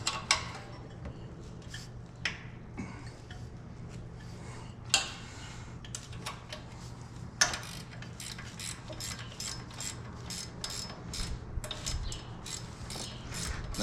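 A ratchet wrench works the 10mm bolts on a Honda Northstar pressure washer panel, a long run of crisp clicks in short bursts with occasional louder clanks, close and clear over a faint steady hum.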